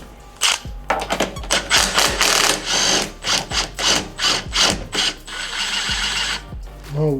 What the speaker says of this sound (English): we got to put our nut back on the top